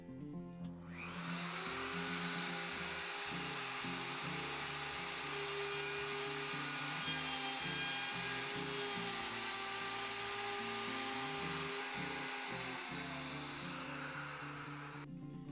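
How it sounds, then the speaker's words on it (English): A router cuts hinge recesses into a wooden door, a loud, steady high-pitched whine running without a break for about fifteen seconds with a shifting grinding undertone. "get the router ready, and I'm going to let Adam router it out"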